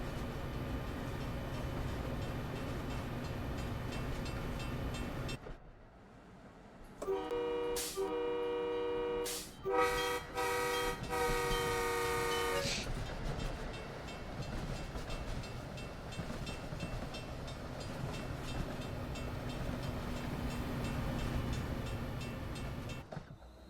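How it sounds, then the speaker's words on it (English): An MBTA commuter rail train on the Providence/Stoughton line passes over a street crossing, with rolling wheel rumble, a gap, then a loud horn sounding in several long blasts before the train noise continues steadily; no talking. "Just watching the rear of the train crossing over that street"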